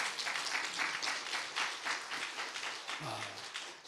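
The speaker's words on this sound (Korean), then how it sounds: "박수 한번 쳐줍시다." A church congregation at a Friday worship service applauds in a steady wash of clapping at moderate distance, with a brief low voice murmuring near the end.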